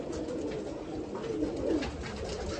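Soft, low cooing of pigeons continues inside a bird shop over a steady background hum, with several birds overlapping.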